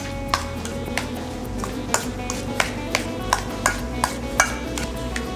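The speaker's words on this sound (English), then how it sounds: "And then we're gonna mix it again." Guacamole being stirred with lime juice and crema in a bowl, a series of regular, close, bright clinks and scrapes of a spoon against the bowl, repeating roughly every half second.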